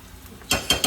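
Three quick scraping clacks of a wooden spatula against a brand-new skillet while stirring black-eyed peas, arriving after a quiet half second, close and fairly sharp with no talking.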